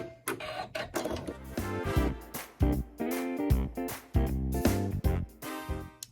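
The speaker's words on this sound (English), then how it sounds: "we're gonna sew our seam" A sewing machine stitches a seam through quilting fabric with neutral thread, its motor whirring loudly in repeated bursts that start and stop with short pauses between runs, with no voices.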